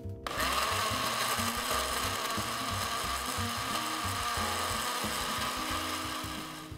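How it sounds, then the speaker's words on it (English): A blender whirs continuously, loud and close, churning fruit with almond milk, its motor grinding with a rough, rhythmic chopping texture throughout. "So we're just going to throw those into the blender"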